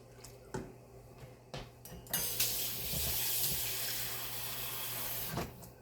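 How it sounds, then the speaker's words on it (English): Chicken and beef bouillon mixed together pours into a cooking pot, a steady liquid rush with a bright splashy hiss that swells mid-clip, preceded by a few clinks and taps. "I mixed together some chicken bouillon and some beef bouillon. And we're going to add that right on in here."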